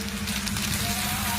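Crushed green chilies frying in hot coconut oil and ghee for mutton biryani, a steady close sizzle and crackle with a low background hum, briefly heard without talking.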